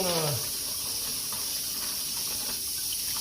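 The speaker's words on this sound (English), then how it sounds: "You're just gonna rinse the strainer out a little bit, and you're just gonna pour" Water poured through a kitchen strainer while rinsing it, a short splash at the start that settles into a steady, close trickling hiss.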